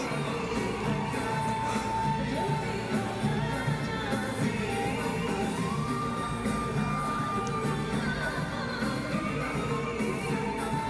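Concert audience at a show in Kuala Lumpur roars and whoops continuously, a loud, sustained wash of cheering mixed with the onstage music.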